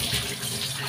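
Tap water runs in a steady, close rush in a home kitchen being washed down after the dishes, filling the whole short stretch without a break.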